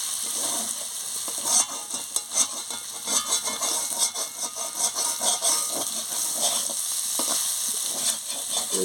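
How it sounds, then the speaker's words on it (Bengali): Sattu sizzling steadily as it fries in oil, with a spoon stirring and scraping through the pan in repeated soft strokes, continuous and close with no talk. "লাল লাল হয়ে ভাজা হয়ে যাচ্ছে, তেল বেরিয়ে পড়ছে"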